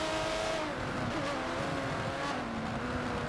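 Aston Martin DBR9 race cars in a racing video game rev and pull out of a corner, engine notes sliding down and then climbing again under steady road roar, loud and continuous, with no voices.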